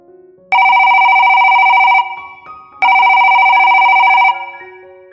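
A telephone rings in two long electronic bursts of bright, steady warbling tone separated by a short gap, loud and close with no voices.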